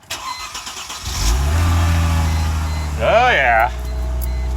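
A Mercedes engine cranks briefly and catches, settling into a loud, steady idle with a rising whine partway through, while someone speaks a short remark at the start.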